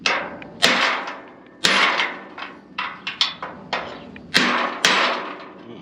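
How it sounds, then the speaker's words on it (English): Heavy hammer blows strike a bent metal gate about a dozen times at an uneven pace, each a loud clanging thud with a short ringing decay. "I guess the best way to do this is just use a hammer"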